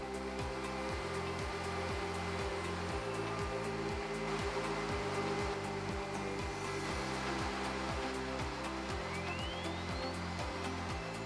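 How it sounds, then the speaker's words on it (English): A CNC router (AXYZ Pacer) runs a roughing cut on acrylic letters, a loud continuous whine with a repeating cyclic pattern as the spindle moves along the toolpath, with no talking. "First, most of the material is removed using a roughing cut."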